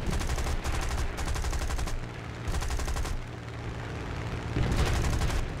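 Rapid bursts of aircraft cannon fire in War Thunder, aimed at a B-25 bomber, hammer out in several loud sustained volleys with short gaps between them.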